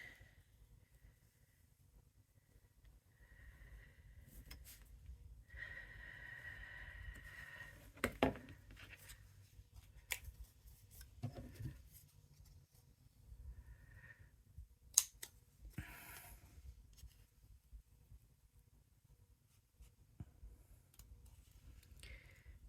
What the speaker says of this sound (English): bring your scissors in, cut your square window out.